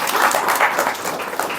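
A class of students breaking into brief applause, a dense burst of many hands clapping close by that fades slightly toward the end.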